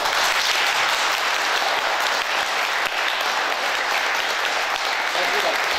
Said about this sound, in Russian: А давайте попробуем, как мы будем аплодировать.